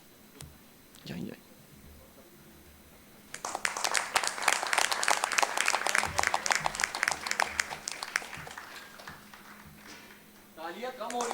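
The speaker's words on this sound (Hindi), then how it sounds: "तालियां कम हो रही है, तालियां जोर से" Applause from an audience at a talk on soy food uses and business opportunities, starting suddenly and building into sustained, fairly close clapping for several seconds, then tapering as a voice speaks.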